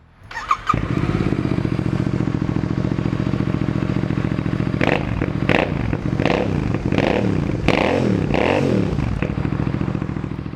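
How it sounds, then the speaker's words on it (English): A Royal Enfield Super Meteor 650 with aftermarket silencers starts and settles into a steady, throaty idle, then gets several sharp blips of the throttle that rise and fall. "why don't we start it up and hear what it sounds like."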